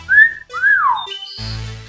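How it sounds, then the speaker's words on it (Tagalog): Boys whistle in two short rising-and-falling tones, clear and close, followed by a brief higher note before a low hum takes over. "itigil nyo nga yung pagpito dyan ha"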